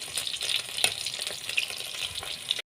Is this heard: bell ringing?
no